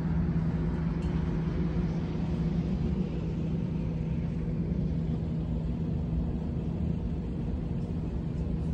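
The ship Blue Sapphire's engines run slow astern during berthing, a steady low droning rumble with a constant hum, continuous and unchanging throughout with no voices.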